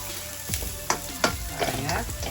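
Small shallots fry and sizzle in a pan for a prawn dish, with a continuous close crackle punctuated by a few sharp stirring scrapes.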